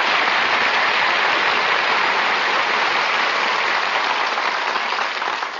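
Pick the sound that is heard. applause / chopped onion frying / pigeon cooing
applause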